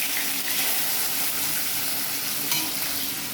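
Fish frying in hot oil in a home kitchen, giving a loud, steady, close sizzle that runs unbroken for about three seconds with no talking.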